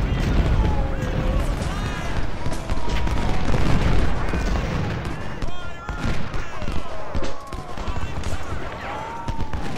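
Continuous massed musket and artillery fire on a Civil War battlefield in Ultimate General: Civil War at Cold Harbor, dense and rumbling throughout, with someone talking over it.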